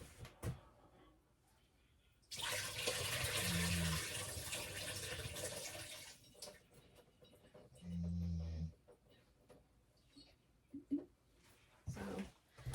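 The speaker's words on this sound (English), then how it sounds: "I'm going to drain this water out real quick" Water drains out of a jar of ranunculus and anemone corms in two splashing pours, a longer gush followed later by a short one, separated by quiet moments with faint handling sounds.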